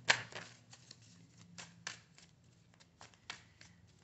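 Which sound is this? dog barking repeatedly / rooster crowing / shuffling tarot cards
shuffling tarot cards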